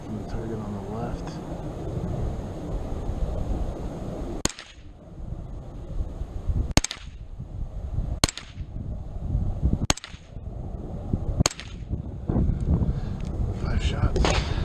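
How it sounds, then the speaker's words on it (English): Five sharp pistol-caliber carbine shots fired at a target on a range, a Freedom Ordnance FX-9 or CZ Scorpion EVO 3 with a Holosun sight, spaced about one to two seconds apart over outdoor background noise, with a voice talking before the first shot. "Shots."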